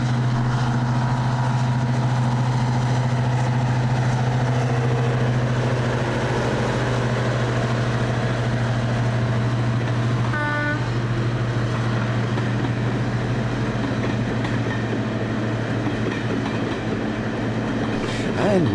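A train on the East Lancashire Railway near Ramsbottom, a steady heavy engine drone with a strong low hum and rumbling wheels, a brief tonal sound partway through, continuous and fairly close.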